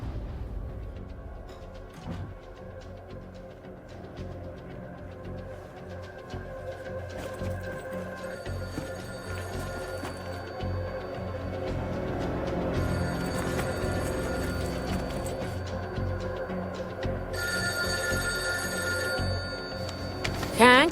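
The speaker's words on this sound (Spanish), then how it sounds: "¿podrías contestar el teléfono?" A telephone rings repeatedly indoors amid a busy background of music and room sound, with bursts of high ringing recurring through the scene in a dramatized true-crime story.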